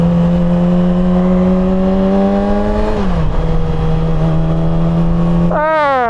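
A Yamaha R6 sport bike engine pulls hard and close, its pitch climbing steadily, dipping briefly at a short shift around the midpoint, then rising again before another quick shift near the end.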